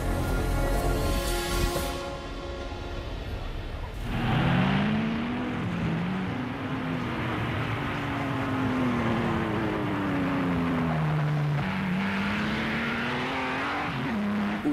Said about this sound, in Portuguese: O som daqueles carros era algo que o público britânico nunca tinha ouvido. Aquilo parecia um foguete.